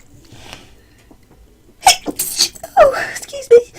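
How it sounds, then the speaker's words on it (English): A person sneezes during a pencil drawing session: a quiet lead-in breath, then a loud, sharp sneeze followed by a second burst and a short vocal exhale, close and clear over a quiet room. "I'm going to have a sneezing fit in a minute"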